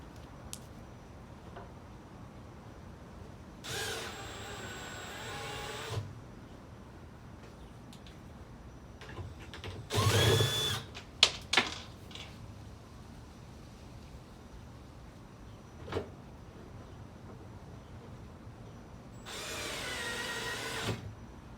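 Screws being driven into a puzzle assembly with a power driver, a few separate short whirring bursts spread over a quiet stretch, mixed with small clicks and handling taps, with no voices.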